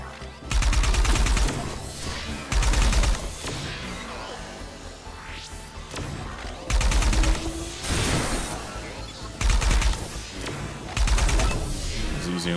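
Repeated heavy bursts of gunfire in the shooter game ArcRunners, loud rapid volleys coming every second or two over game music and whooshing effects.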